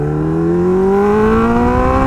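A heavily modified Kawasaki Ninja H2R motorcycle engine revs close up under gentle throttle, its loud harmonic whine climbing smoothly and steadily in pitch throughout.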